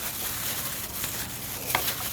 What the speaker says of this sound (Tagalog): Piprituhin natin yung tokwa.